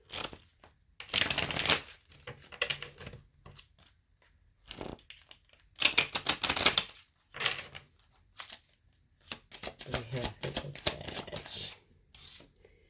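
Law of Attraction oracle cards are shuffled in short, close bursts of riffling and rubbing, separated by quiet pauses.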